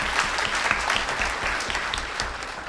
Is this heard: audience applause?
yes